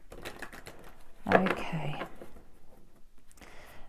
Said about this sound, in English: So let's just shuffle the deck and then we'll begin.